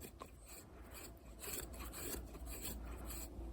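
A Condor Terrasaur Scandi knife with a 1095 steel blade carves wood for a featherstick, producing a steady series of soft, close rasping scrapes that grow slightly louder midway, with no talking.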